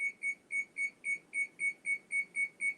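Kitchen timer being set for deviled eggs, giving a rapid, steady run of about eleven evenly spaced high electronic beeps with no talking.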